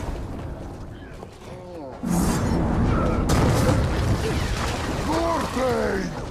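Explosions in the Middle-earth: Shadow of War video game, a loud booming blast erupting after a quieter opening and rumbling on under crashing game noise, with a voice speaking over it.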